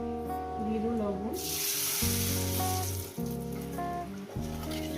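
Salt hits hot mustard oil, setting off a sudden loud sizzle that swells and holds steady under background music, with brief dips as the frying continues.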